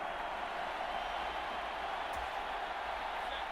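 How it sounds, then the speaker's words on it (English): In the Madden NFL 24 football game, a stadium crowd of Buccaneers and Vikings fans keeps up a constant, even roar at moderate volume with no distinct peaks. "This crowd turning up the decibel level"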